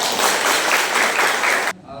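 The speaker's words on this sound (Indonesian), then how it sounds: "Tepuk tangan buat Zahra." A classroom bursts into applause for a student, a dense, loud wash of many hands clapping that cuts off abruptly near the end, leaving a quiet room.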